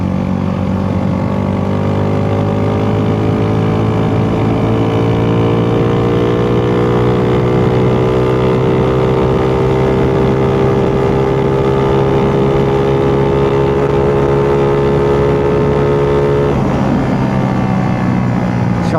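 Honda Wave 125 FI motorcycle fitted with an ECU tune on a short test ride, its engine droning loudly and steadily at low RPM, the pitch sliding slowly down and then rising again near the end.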